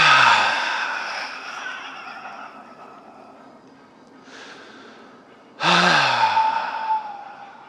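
Forceful, breathy exhalations during a pelvic breathing exercise: a long, loud sigh that trails off, a faint breath, then another strong, close push of air.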